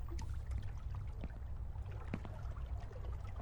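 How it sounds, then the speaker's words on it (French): A distant waterfall in the horror game Horror Tales: The Wine gives a steady, soft wash of falling water, with faint splashes and trickles over a continuous low rush. "Plus on est loin de la cascade, moins le bruit se fait intense."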